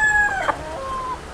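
A rooster crows once, a clear rising then sustained call that rings out near and loud above a faint steady background hiss.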